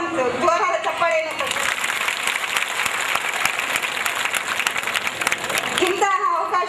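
Audience applause fills a May Day celebration held by MBA students at a workplace in Davangere, steady dense clapping for about five seconds, with an announcer's voice before it starts and again as it fades.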